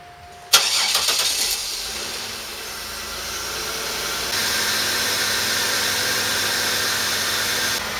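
A Buick LeSabre's engine cranks and catches with a loud burst, then settles into a steady idle that continues with a faint rise in level partway through. No one speaks.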